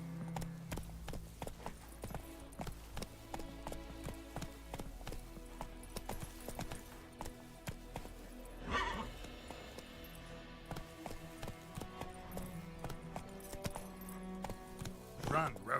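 Roach the horse galloping in The Witcher 3, a rapid rhythmic clip-clop of hooves close by and continuous, with game sounds and a voice talking over it.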